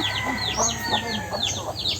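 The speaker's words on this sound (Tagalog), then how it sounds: "kakahuli lang biglang nag warning call pagpasok sa kulungan" A chicken gives rapid, repeated alarm calls on entering a coop, sharp and close, over a dense background of other birds and constant noise.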